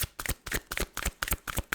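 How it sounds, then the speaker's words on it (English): A deck of tarot cards being shuffled by hand, a quick run of crisp, rhythmic riffling bursts close to the listener, with no voices. "sometimes we just need to shuffle a bit so that the cards that wants to come out is getting really organized"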